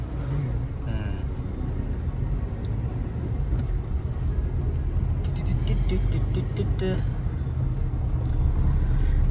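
A bus pulls in through busy evening rush-hour road traffic, its low engine rumble mixed with the constant noise of passing vehicles, and a voice speaks now and then.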